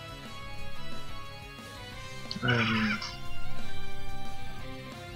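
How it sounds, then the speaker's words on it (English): A Brave Bird attack boosted by the Gale Wings ability in a Pokemon Showdown battle, heard as a brief, bright screeching burst of about half a second over steady game music. "Brave Bird given priority from the"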